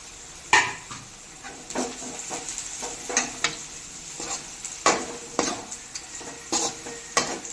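A spoon stirs sliced boiled eggs in gravy simmering on a low flame, with soft sizzling under scattered clinks and scrapes against the pan, close and fairly quiet with no talk.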